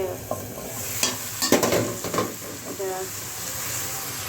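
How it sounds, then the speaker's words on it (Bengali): Cauliflower, potato and green tomato bhaji cooks in a pan with a quiet sizzle, broken by several clinks and scrapes of a spoon stirring against the metal. A voice murmurs faintly in the background. "ফুলকপি আলু দিয়ে কাঁচা টমেটো দিয়ে একটা ভাজি করতেছি"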